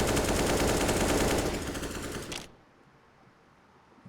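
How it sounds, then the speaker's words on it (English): Gunfire in a Counter-Strike match at an ESEA Cash Cup esports event: dense, loud rapid bursts of shots that cut off abruptly partway through, leaving quiet game ambience and no talk. "Janji rotates through vents, but Jazz Pimp able to headshot him at the main vent entrance."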